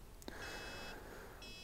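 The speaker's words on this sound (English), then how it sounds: "Sorry about that beeping, I just can't turn that off." Electronic beeping from a drone controller that cannot be switched off: two steady, sustained high tones in succession, the second starting after a short gap, fairly quiet over background noise.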